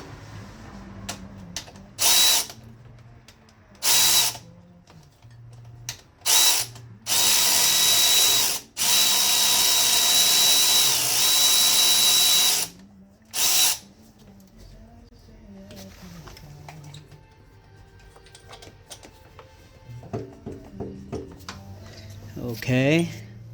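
Power tool with a high whine zipping bolts out of a Nissan panel cover during a timing chain replacement, in several short bursts and one longer run, close by, with clinking parts and speech in between.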